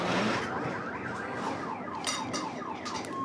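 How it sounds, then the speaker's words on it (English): Car alarm set off by a passing truck outdoors, blaring loud and close with a repeating whooping, rising-and-falling siren pattern and no voices. "That truck just set off the car alarm."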